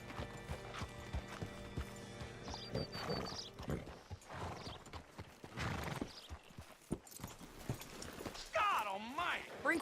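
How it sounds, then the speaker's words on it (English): Horse hooves clip-clop in Red Dead Redemption 2 under frequent speech, with a whinny near the end. "Hitch your horse up here."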